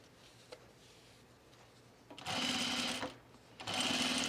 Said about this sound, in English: you can edge stitch the other side to give it the same look